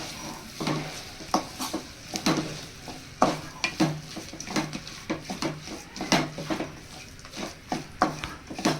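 Mango rice with spices, curry leaves and coriander being stirred in a pan: repeated scraping, clattering strokes at a steady rhythm over a soft sizzle, close and fairly loud.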